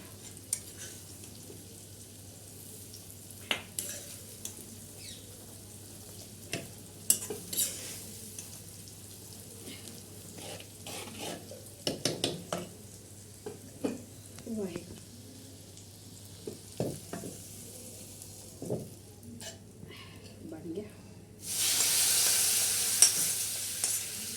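A tadka for dal sizzles in hot oil on a village clay stove (chulha), heard as a quiet outdoor background with bursts of crackle and clinking utensil strikes, then a loud rushing hiss as the tempering hits near the end.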